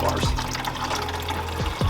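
Coolant pours steadily out of a Suzuki LTZ 400 ATV radiator, a close, continuous watery splashing with a few brief gurgling surges.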